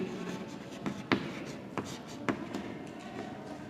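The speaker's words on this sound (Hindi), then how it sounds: "हम बोर्ड पर अर्थात श्यामपट्ट पर लिखाएंगे" Chalk writing an answer on a classroom blackboard, a few soft scratching strokes with sharper taps at about one-second intervals, heard close under a steady room hum.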